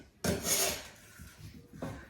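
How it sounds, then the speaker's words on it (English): A kitchen knife is drawn through a small handheld sharpener in two short rasping strokes, close and crisp, with a brief pause between them. "So I need a sharp knife. I invest in a little sharpener."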